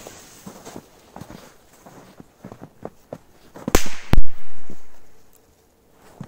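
Joker Fireworks 2 firecrackers pop in a scattered run of small sharp cracks, followed by a few much louder close bangs, the last with a long rumbling tail.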